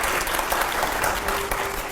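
An audience breaks into loud, dense applause at a question-and-answer event, sustained clapping close by and continuous for the whole stretch without talk.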